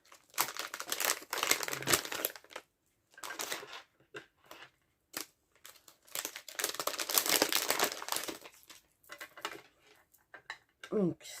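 Small plastic packet crinkling during papercraft work with a Stampin' Up kit, several bursts of rustling and crackling separated by short pauses, close and fairly quiet, with no talking.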